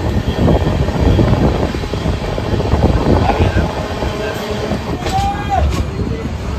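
Jagannath Express passenger train rolling into Puri station after a long run, heard from inside as a loud, continuous rumble and clatter of wheels on rails, with a brief tonal squeal near the end.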